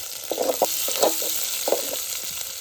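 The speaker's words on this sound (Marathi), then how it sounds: "आता ही फोडणी एकदम ढवलून घ्यायची." Garlic, curry leaves, green chili and ginger sizzle steadily in hot oil for a tempering cooked outdoors by a riverside, with scraping stir strokes at irregular intervals over the constant frying hiss.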